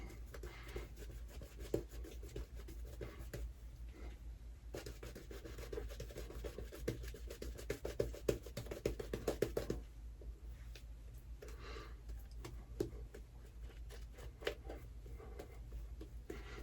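A Zamac EJ89 safety razor scrapes across skin in close, quiet rhythmic strokes, a dense bristly rasp with short pauses between passes and no talking.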